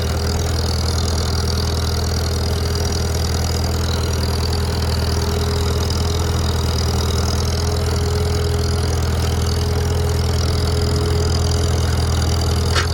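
A tractor engine drones steadily while discing a field, a continuous low rumble with a faint high whine running throughout at a constant level and no talking.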